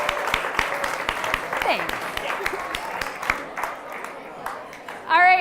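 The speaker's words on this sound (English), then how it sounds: "Can we all just give a round of applause for this wonderful woman who created this project?" An audience claps for the creator of a food and farm project, moderately loud scattered applause carrying on for several seconds while a voice speaks briefly near the end.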